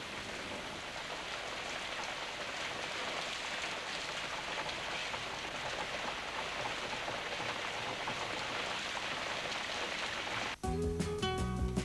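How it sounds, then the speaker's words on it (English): Rain falls steadily in a dense, even hiss for several seconds. It cuts off abruptly as music begins. "In a short while, they will fall as rain."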